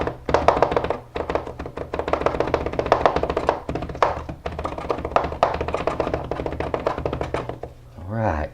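A knife minces garlic cloves on a cutting board in a rapid, steady run of close, crisp chopping taps, with a voice speaking over it.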